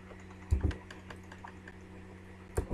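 Someone types PHP code on a computer keyboard, producing a few scattered, close key clicks with a couple of louder taps and pauses between them, over a low steady hum.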